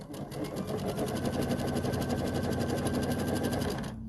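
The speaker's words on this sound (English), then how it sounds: "You need to sew 2 sets of triangles together." A sewing machine runs at steady speed, stitching quilt triangles together with a 1/4 inch seam, its needle producing an even rapid mechanical chatter close by for about four seconds before stopping.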